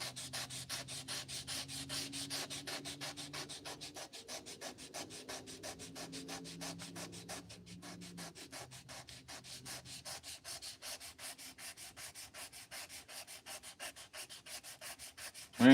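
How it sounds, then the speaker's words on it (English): Rapid, rhythmic back-and-forth scratching of sandpaper on wood in a knife-making shop, steady and fairly quiet throughout with no talking. "We're just doing some hand sanding."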